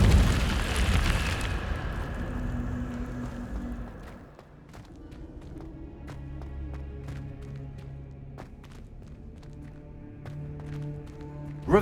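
Incendio fire spell cast in Hogwarts Legacy: a loud roaring whoosh of flame that fades after a few seconds into a quieter low rumble dotted with faint crackles.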